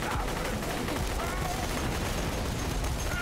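A grenade goes off in Borderlands 2 amid game gunfire, making a loud, dense burst of continuous crackling pops with no pauses.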